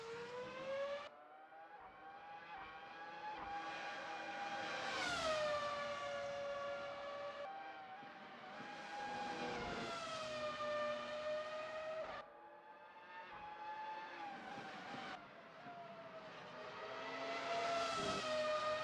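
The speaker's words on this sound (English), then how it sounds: "Those V10s, they sound absolutely sublime. They scream, the roar" V10 racing car engines scream in a racing video game at Sepang, high-pitched whines rising and falling through repeated gear changes, with the revs climbing and dropping in a steady cycle.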